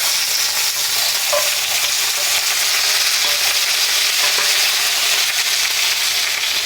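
Bell peppers in yellow, red and green with jalapeño sauté in butter, a steady bright sizzle with light stirring scrapes running throughout, close and fairly loud, with no voices.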